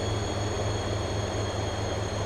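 Steady low rumble of a train rolling along rails in Transport Fever 2, a continuous mechanical drone with faint high tones above, unbroken and without talk.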